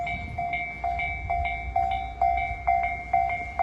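A Japanese railroad crossing's warning bell dings in a steady, rapid alternating rhythm, loud and close, with a low rumble of a passing train underneath.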